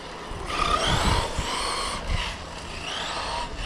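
A Team Corally Kagama RC off-road car driving on three wheels on a dirt track, its electric motor whining and surging close by with some tire scrubbing.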